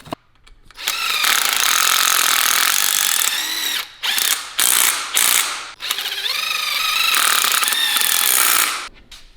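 Impact wrench rattling loud and close as it runs in and tightens fasteners on an OBS Chevy truck brake job, in several hammering bursts with short pauses between them.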